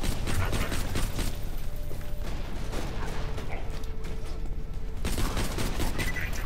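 Continuous crackling pistol gunfire and mechanical clatter in Borderlands 2, a dense rapid run of shots at steady loudness throughout.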